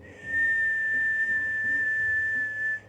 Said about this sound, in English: When we inhale, we're going to inhale through the mouth with a whistle.